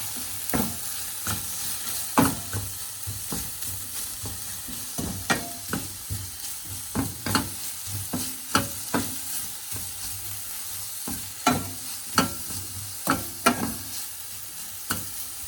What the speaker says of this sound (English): And you kind of stir it like that.